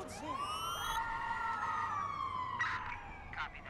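An ambulance siren wails in the Watch Dogs 2 video game, a sweeping tone rising and holding under faint background game sounds.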